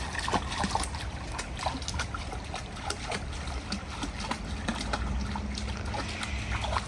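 Shallow creek water trickling and splashing lightly outdoors, a steady faint wash of flowing water with small irregular splashes, with a dog nearby and no talk.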